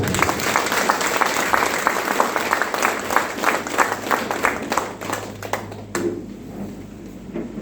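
An audience clapping along, rapid rhythmic claps with crowd noise that thin out and fade toward the end, leaving a quieter room.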